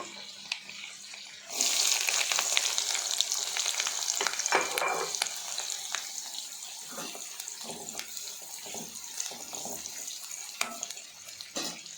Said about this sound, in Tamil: அடுத்து நம்ம பொடியாக நறுக்கி வச்சுருக்கிற சின்ன வெங்காயத்தை ஆட் பண்ணணும்